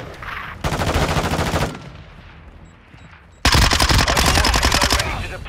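Automatic gunfire in Modern Warfare 2 on PS5, a team deathmatch, comes in two loud, rapid bursts of close machine-gun fire separated by a quieter pause, the second burst running to the end.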